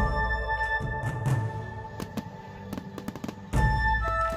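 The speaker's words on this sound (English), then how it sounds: "kapag Chinese New Year, di pwedeng walang pa-fireworks display" Chinese New Year fireworks display with a rapid scatter of sharp cracks and pops over a tonal musical backdrop, ending in a heavier burst of bangs.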